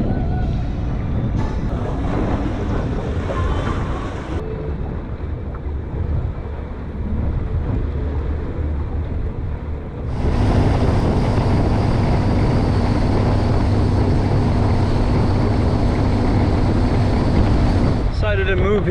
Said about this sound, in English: have some generator action, a little AC